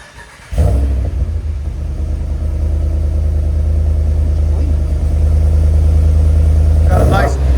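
A RAM 2500 with a 6.4L V8 and its muffler removed, replaced by a dump exhaust, idles with a loud, steady, deep rumble that starts abruptly and holds unbroken, close and alone without talk.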